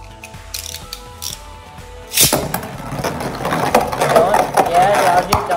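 Beyblade spinning tops clash in a stadium, an emperor Forneus defense top against a Z Achilles, with ratcheting metallic whirring that swells into a loud, dense grinding rattle partway through, and a voice talks briefly over it.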